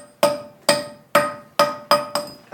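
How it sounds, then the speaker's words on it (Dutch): A hand hammer striking a millstone as it is dressed, six sharp ringing blows at an even pace of roughly two per second, each decaying quickly, close and alone. "En dan moet ik met een hamer."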